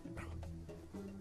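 A dog barking in a short run of close yips and woofs, loud and alone.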